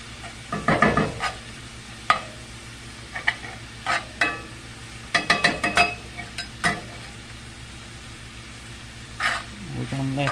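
Garlic and vegetables stirred in a hot pan, with bursts of scraping and clattering from a utensil against the metal in uneven clusters over a faint sizzle, close by.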